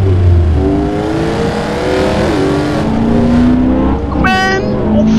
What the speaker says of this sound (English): With the Mustang, it's so easy to drift, but it's so hard to keep it on the lane.